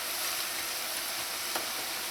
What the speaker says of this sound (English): you're going to allow this to fry until it's light golden brown